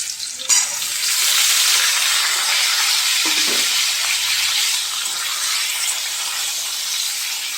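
Parboiled potatoes frying in hot oil spiced with panch phoron and a dried red chilli in a wok, giving a loud, steady broadband sizzle after a brief clatter as they go in, with no talking.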